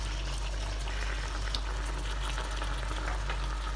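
Lechon paksiw simmering in a pot of water with black pepper, giving a steady, continuous low bubbling and gentle hiss throughout, fairly quiet and close with no talking.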